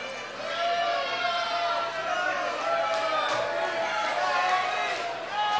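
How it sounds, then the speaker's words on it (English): A studio audience boos at a televised event, a sustained crowd roar of jeers that swells and holds for several seconds at steady volume, with voices mixed into the noise. "They're booing."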